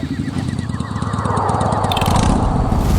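Motorbike engine on a forest road at night, a steady close throbbing rumble that grows louder toward the end, without speech.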